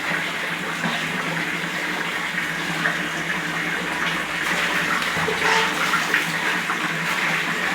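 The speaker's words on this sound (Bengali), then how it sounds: "জল দাও, জল দাও, গায়ে জল দাও" Water is poured over a bathing child in a steady, continuous gush, like a tap or bucket filling and splashing, loud and close throughout with no pauses.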